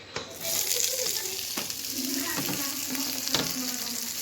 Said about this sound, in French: Je fais dorer mes assaisonnements là.